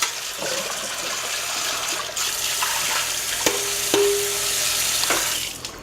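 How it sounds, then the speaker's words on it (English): Running water pours into a big mixing bowl during a rinse, a continuous close rushing with a few knocks of the bowl, and no one speaking. "We can give our big bowl here a nice rinse."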